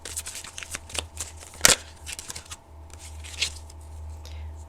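Tarot cards handled and shuffled close by, with soft papery rustles, flicks and one sharp slap as a card is placed on the table over a low steady hum.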